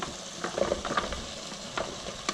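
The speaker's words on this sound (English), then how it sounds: "Now I'm going to add the vegetable, which will take longer time to cook." Chunks of potato, pumpkin and Malabar spinach stem drop into a hot pan, giving a few short clattering knocks over a soft sizzle, with scattered stirring scrapes.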